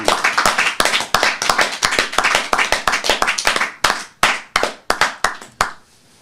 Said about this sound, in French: Je vais proposer à tous, même ceux qui sont en coulisses, 1 minute d'applaudissement pour tous les enseignants.